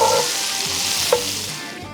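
Butter melting in a pan over a camp stove for a mac and cheese roux, a steady close sizzle and gentle hiss with a faint soft clink partway through.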